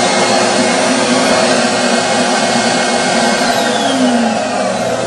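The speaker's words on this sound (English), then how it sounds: "When we extract, we just turn the vacuum motor on, hit a jet spray button" A Steamin Demon carpet extractor's vacuum motor runs steadily, a loud, close, dense roaring whoosh with no pauses and a faint whine rising through it.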